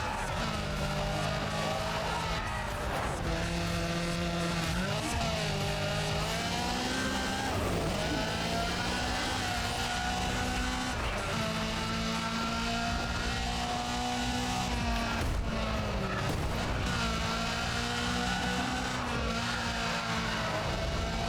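A Lamborghini Gallardo races in Need for Speed ProStreet. Its engine drones steadily and loudly throughout, with rising and falling revs, gear shifts and brief skidding scrapes amid other cars' engine noise.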